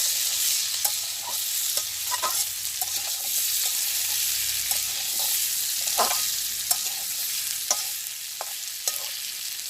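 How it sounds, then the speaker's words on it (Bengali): Spices sautéed in a pan over a village cooking fire, with a steady bright sizzle of frying and repeated scraping stirs from a utensil, close and continuous without talk. "জিরা পাতা দিয়ে সুন্দর করে কষাই নিয়েছি"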